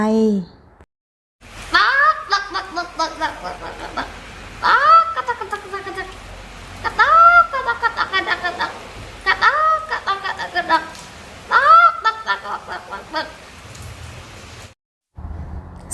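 A voice imitates a startled chicken with repeated loud squawking cries in separate bursts, each rising then falling, close to the listener.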